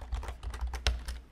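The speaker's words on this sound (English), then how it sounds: "So I can do this by typing sudo" Command keys are typed on a computer keyboard while probing an I2C bus on a BeagleBone, a quick run of about ten clear clicks and taps, close and fairly soft.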